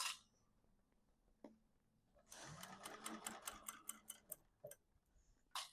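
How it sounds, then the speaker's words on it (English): A sewing machine stitches a duffel bag in a circle, a steady mechanical whir with rapid needle ticks that runs for about two seconds mid-clip, sandwiched between quiet handling clicks and no speech. "this machine is just so much easier to sew in a circle on"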